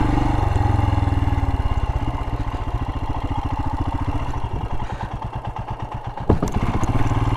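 A Royal Enfield Himalayan motorcycle idles and pulls through an off-road obstacle course in first gear, its single-cylinder engine chugging steadily and close with rapid even pulses, a clunk near the end and no talking.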